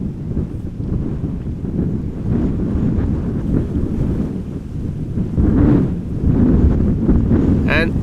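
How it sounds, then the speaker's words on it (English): Strong crosswind at Amsterdam Schiphol airport buffets the camera microphone in a constant loud low roar that surges and eases, with occasional voices under the gusts. "Bit of a struggle to follow smoothly with the wind constantly battling and trying to push the camera the other way"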